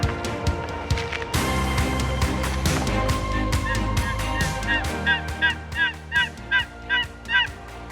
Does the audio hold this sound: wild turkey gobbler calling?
yes